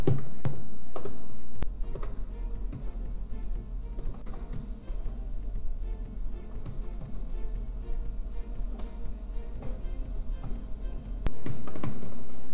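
Fast, continuous typing of code on a computer keyboard, dense clicky keystrokes in close, steady bursts with no talking.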